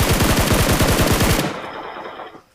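Automatic gunfire in PUBG Mobile, a loud rapid burst of evenly spaced shots lasting over a second, then stopping abruptly into a quieter tail.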